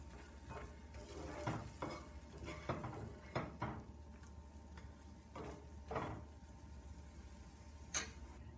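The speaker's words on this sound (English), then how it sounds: "You can chop up the cooked part a bit and scramble away." An egg is scrambled in a frying pan, with a utensil scraping and chopping the setting egg in quick irregular strokes. A soft, steady sizzle runs underneath, quiet and close, with no voices.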